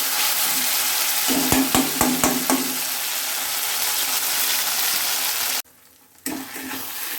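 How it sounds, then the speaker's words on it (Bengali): Khichuri sizzles and crackles in hot oil in a pan while a spoon scrapes and stirs in a quick burst of clicks, the frying continuing steadily apart from a brief cut to near silence. "এবার খিচুড়িটা দিয়ে দিচ্ছি তেলের মধ্যে"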